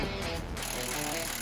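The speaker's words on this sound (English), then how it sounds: "they had to use a drill to make them go all the way down" A power drill screws long ground anchors about 30 inches deep into the soil around a newly levelled shed base, giving a steady, loud mechanical grinding whir that runs without a break.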